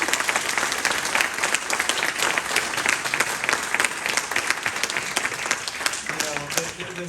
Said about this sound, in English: I think we should give the Bowers a round of applause.